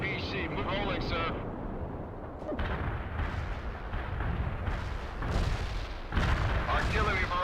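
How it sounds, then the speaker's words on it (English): An artillery barrage in the video game World in Conflict rumbles on as dense, continuous booms and blasts, loud and near, with a voice speaking over the bombardment. "Artillery barrage hit for full effect."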